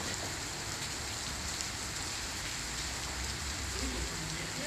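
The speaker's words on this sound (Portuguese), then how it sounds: "Apesar das fortes chuvas," Heavy rain pours down steadily in a city street during a long downpour, a dense, even hiss of drops on surfaces with no voices or other sounds over it.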